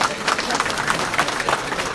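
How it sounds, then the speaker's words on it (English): A crowd at a Nigerian nurses' association gathering in the UK claps steadily, a dense wash of many hands with scattered louder claps throughout. "don't clap too much now"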